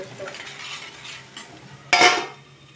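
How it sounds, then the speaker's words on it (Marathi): Masala frying in oil over a low flame, stirred with a utensil in a pan: soft continuous sizzle, a brief scrape partway through and a louder scraping stir near the end, close and alone. "हा मसाला सारखा हलवत राहावा"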